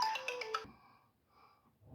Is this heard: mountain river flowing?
no